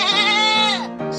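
A human voice imitates a sheep's bleat, a loud, close, wavering "baa" drawn out for about a second with a brief second onset.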